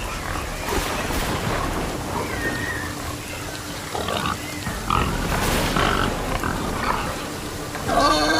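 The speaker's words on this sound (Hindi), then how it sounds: "अन्ना, ज्यादा चर्बी वाला सुअर मिलेगा क्या" A pig grunts in a few rough, intermittent bursts over a noisy background, with some talking mixed in.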